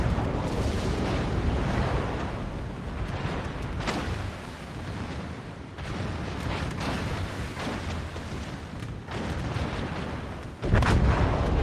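Heavy naval artillery shells booming and crashing in World of Warships, a dense, continuous roar of distant and near impacts rolling together, with a sharper, louder burst near the end.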